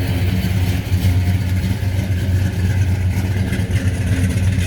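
A 1968 Pontiac GTO's engine idles steadily, heard from behind the car: a continuous, fairly loud low rumble with no speech over it.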